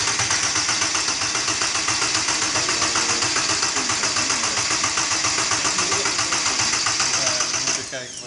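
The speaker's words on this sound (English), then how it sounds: "we are very looking forward to hear the sound of the engine of the 5-cylinder for the first time in the Donkervoort" The five-cylinder engine of a Donkervoort D8 GTO turns over with a rapid, even mechanical pulse, loud and close, running steadily for about eight seconds before cutting off abruptly.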